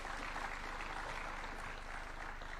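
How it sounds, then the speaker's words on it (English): Audience applause for the Chancellor at the launch of University of Nairobi's Silicon Savannah, a faint, distant, even wash of clapping from a large crowd. "Another round of applause for the Chancellor"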